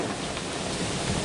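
Rain driven by cold wind at the finish of a French outdoor race, a steady broadband wash of falling rain and gusting air, loud and continuous, with no voices.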